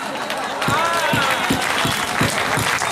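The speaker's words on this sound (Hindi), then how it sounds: "जब तक ताली नहीं बजाओगे तब तक तो यही गाऊंगा।" An audience at a Hindi poetry gathering, a kavi sammelan, claps in a steady rhythmic beat, fairly loud and continuous, under a voice.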